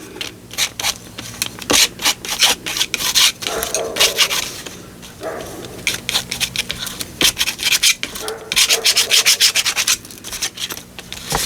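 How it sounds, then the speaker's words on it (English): Paint being scraped thin across a textured mixed media art background, a loud, close, rhythmic rasping of repeated strokes that continues steadily with brief gaps. "And if you scrape this paint, when you scrape it really thin, it does become a little bit semi-transparent"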